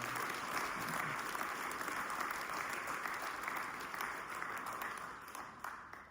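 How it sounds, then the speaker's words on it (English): Audience applause fills a fire department's firefighter of the year banquet, a loud, steady clapping crowd that stays even throughout and thins slightly near the end. "You can give each other a round of applause."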